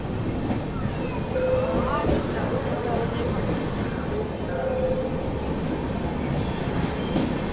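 The Sampoorn Kranti Express rolls slowly through a station without stopping, a steady rumble of rail cars with faint wheel squeals and clatter, fairly loud and continuous throughout.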